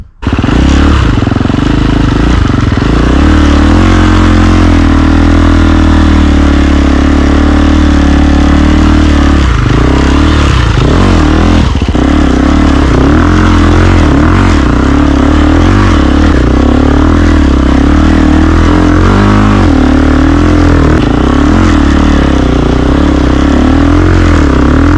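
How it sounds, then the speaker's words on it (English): A KTM 350 Six Days 2022 dirt bike fitted with an Akrapovic exhaust rides up hills, its engine loud and close throughout, a steady raspy drone with repeated throttle surges and revs rising and falling. "We're going to do a run now on the same hills as we did with the original exhaust, so you can hear the difference"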